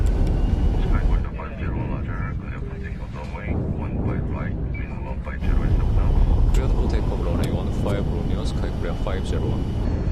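A Boeing 737-800 airliner takes off in a film scene, its engines a loud, steady roar that swells partway through, with a voice talking over it.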